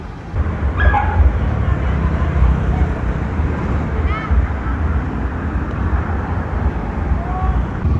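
Several dogs carried in a vehicle bark and whimper now and then, with short yips over a steady rumbling engine and road noise, with voices talking throughout.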